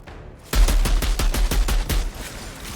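A sustained burst of rapid gunfire in the shooter game Outriders, about a dozen evenly spaced loud shots in quick succession after a brief quiet moment, with no talking.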